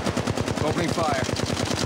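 Rapid automatic gunfire from the Apex Legends Mobile video game, a steady stream of close, loud shots in even rhythm without pause.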